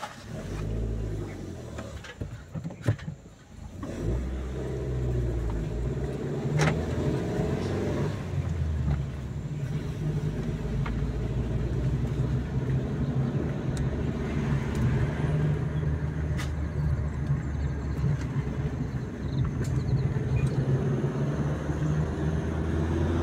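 Engine hum and road rumble inside a moving passenger vehicle, steady low drone with a brief louder clatter early on, then continuous cruising noise with faint background chatter.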